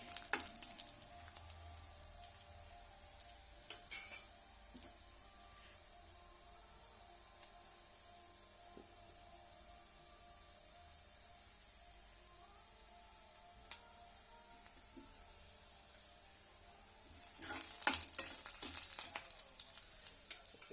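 Onion frying in a pan for a spinach gravy, a steady soft sizzle and hiss throughout, quiet and close, briefly louder with a burst of scraping and crackle near the end. No one speaks.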